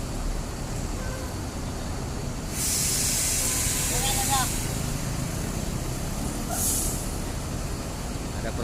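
Air brakes on a Palala intercity bus at the Kampung Rambutan terminal release two sharp, loud hissing bursts, the first long and the second brief, over a steady rumble of idling engines and terminal noise.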